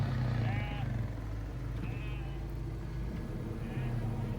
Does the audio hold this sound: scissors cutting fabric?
no